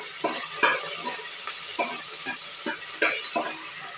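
Curry leaves, onion and tomato sizzle and fry in a pan as a spoon stirs them in repeated scraping strokes, close and steady, with no talking.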